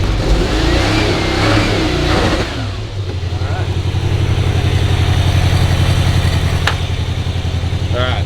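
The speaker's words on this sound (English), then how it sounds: "Give it a little rev." A car engine, newly swapped in, is revved loudly up close, surging then settling into a deep rumbling idle with a steady throb.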